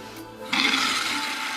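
A toilet tank refills through a newly installed TOTO fill valve after the water supply is turned back on: a quiet hiss, then a sudden loud rush of water that keeps flowing steadily.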